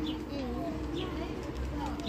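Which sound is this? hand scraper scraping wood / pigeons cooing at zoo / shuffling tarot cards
pigeons cooing at zoo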